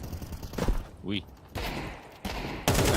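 Desert Eagle pistol shots in a Counter-Strike match at a BLAST.tv Austin Major 2025 broadcast, several sharp reports and a short volley mixed with caster talk and in-game effects.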